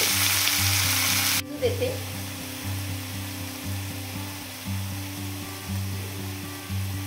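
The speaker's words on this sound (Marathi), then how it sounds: "कमी गॅसवरती मी फोडणी टाकून दिलेली आहे भाजीसाठी" Onion and vegetables frying in a pan over low gas, a continuous close sizzle with soft stirring, a low appliance hum beneath and a brief spoken word.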